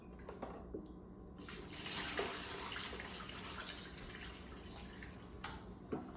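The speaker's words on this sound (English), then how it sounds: "I'm gonna have to toss this water out." Water poured out from an eSpring water purification system, a steady splashing stream that swells midway and carries on with a few small knocks and drips, close and alone.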